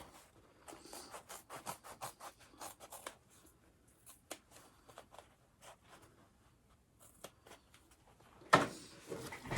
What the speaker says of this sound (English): Using my precision snips to get really close to those corners.